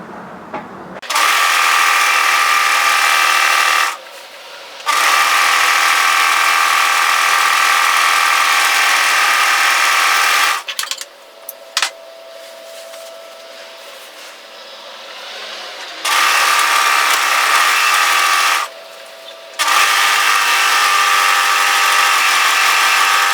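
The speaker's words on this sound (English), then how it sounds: "go to your overlocker and tidy up those edges" An overlocker hums at a fast, steady pace as it trims and finishes fabric edges, running in long bursts separated by brief pauses and one longer quiet stretch.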